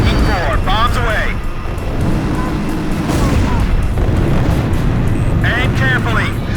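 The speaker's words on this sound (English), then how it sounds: "Okay, on final for bomb attack. Everybody ready? This is Viking 4. Bombs away." Bombs dropped from jets in Ace Combat 5 explode as a continuous loud, rumbling roar of blasts and engine noise, with radio chatter voices heard over the top.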